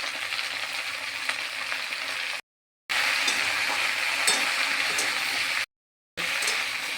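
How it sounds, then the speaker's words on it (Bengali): Okra frying in a pan with salt and turmeric, stirred steadily: a continuous close sizzle with scraping stir sounds, broken by two short silent cuts. "ভালো করে ভাজা ভাজা করে নেব।"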